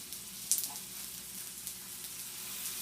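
An egg frying in bacon grease in a pan for okonomiyaki gives a steady, bright sizzle with a few louder pops and crackles, continuous and close.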